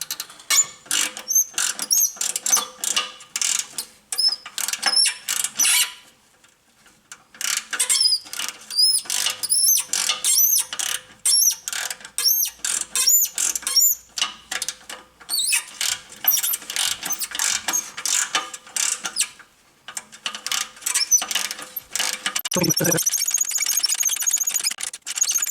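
A wrench ratchets back and forth on a rusty turbocharger bolt on a Honda, giving rapid, close clicking bursts separated by brief pauses, with a short low clunk near the end.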